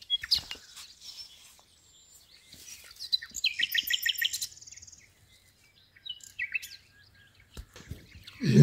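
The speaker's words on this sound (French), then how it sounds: "Un petit oiseau m'accompagne depuis tout à l'heure" Small bird chirping and twittering in short bursts at moderate distance outdoors along a walking route, with quick trilled phrases and pauses between them, no talking.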